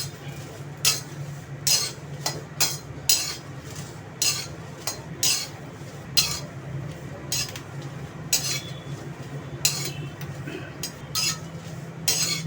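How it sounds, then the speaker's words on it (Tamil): Dried red chillies and curry leaves are dry-roasted without oil in a pan for idli podi, with repeated clinking strokes of a metal spatula against the pan over a low background hum. "எல்லாமே ட்ரை ரோஸ்ட் தான் பண்ணுறேன் வெறுமனே எண்ணெய் விடாமல் வறுக்கிறேன்"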